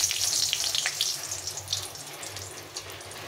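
Dried red chillies and a bay leaf frying in hot mustard oil in a pan, a loud crackling sizzle that starts strong and slowly settles.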